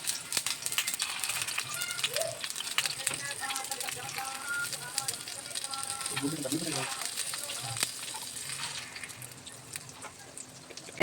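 Eggs frying in a little oil with coriander and chili for a bun egg roll, a steady crackling sizzle running throughout beneath a voice talking.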